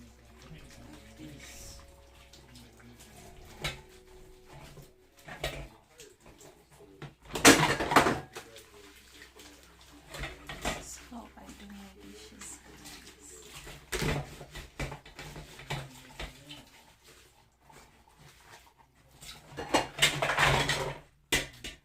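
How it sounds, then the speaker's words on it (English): Dishes, pots and pans are washed at a home sink, with running water, clinking crockery and cutlery in scattered bursts, and some quiet talk in the background. "This is how I do my dishes at home."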